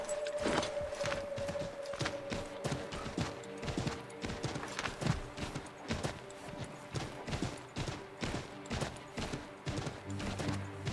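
Horse hooves clip-clop steadily in Assassin's Creed III, a brisk, close rhythm of repeated strikes that carries on throughout with a low sustained tone beneath.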